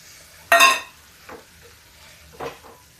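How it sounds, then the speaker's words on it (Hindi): Tomatoes dropped into a pan of frying masala give one loud wet splat and sizzle, followed by two quieter scraping stirs, with no talk. "इसी समय हम डाल देंगे टमाटर"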